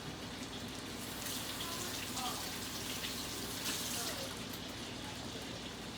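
Tap water runs steadily over a lemon being rinsed in a kitchen sink, a continuous close splashing hiss that holds for several seconds with small shifts as the fruit moves under the stream.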